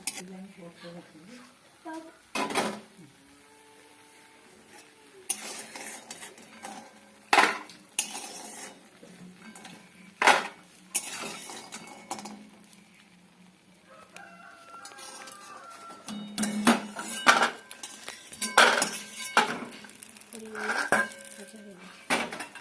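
Fried lentil dumplings are lifted out of a wok with irregular metallic clinks and scrapes of a utensil against the pan, close by, alongside background sounds including a rooster.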